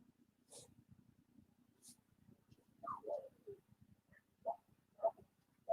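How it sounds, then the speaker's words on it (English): Dogs bark and yelp intermittently in the background, a few scattered sharp calls that grow closer toward the end, over quiet room noise with faint low voice murmur. "Sorry about the dogs barking"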